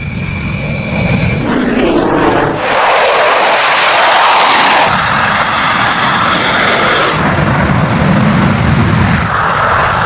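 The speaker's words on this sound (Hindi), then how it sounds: "रात के अंधेरे में एक के बाद एक रफाल" Rafale fighter jets taking off one after another at night, a loud sustained roar of aircraft engines that swells and shifts in waves throughout, with no voices.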